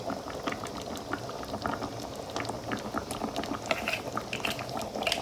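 Radish greens cooking in a pan with water and oil give off a steady close bubbling sizzle with scattered pops and crackles throughout, no voices.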